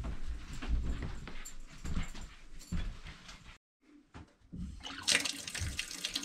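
Water runs from a tap inside a remote backcountry cabin, a steady splashing rush that cuts out briefly midway and then resumes brighter, with a dog whimpering nearby.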